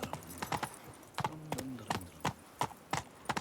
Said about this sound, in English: hate riding the horse through town